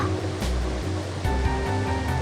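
Rushing river water from the video game Growlanser, a steady, dense wash of flowing water that carries on unbroken, with low tonal background sounds faintly underneath.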